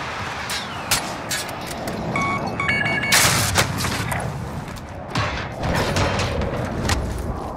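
Gunshots in a multiplayer shooter video game played as a trios squad match: bursts of sharp rapid fire, with scattered single shots and brief electronic beeps, fairly loud and close throughout.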